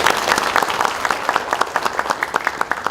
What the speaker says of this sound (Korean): 박수를 한번 좀 보내주십시오